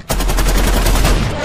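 In a video game, a loud burst of rapid gunfire erupts after a brief pause and holds as a dense, booming rattle for over a second.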